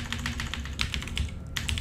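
Fingers type quickly on a computer keyboard, with a brisk run of close, crisp key clicks over a short stretch and no talk.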